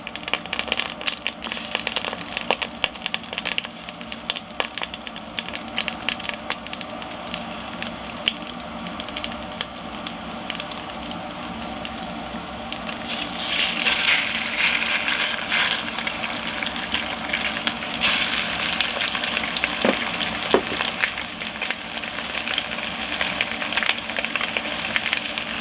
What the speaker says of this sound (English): pour in our ground pork